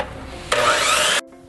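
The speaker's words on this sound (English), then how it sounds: "there's always the trusty tin snips. That's another way you can cut this panel." Tin snips cut through a 29 gauge steel siding panel in one short, harsh rasping stroke of under a second, close up, followed by faint metallic clicks as the blades release.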